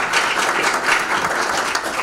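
Round of applause from a conference audience at a business presentation, a dense, sustained roar of many hands clapping at once, steady and fairly loud throughout.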